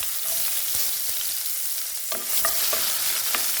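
Onion, tomato and seasonings sautéing for sardines in a pan, a steady close sizzle with scraping stirs of a utensil, no talking.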